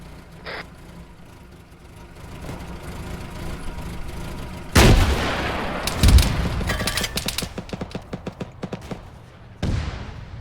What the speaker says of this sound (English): One rocket into BTR.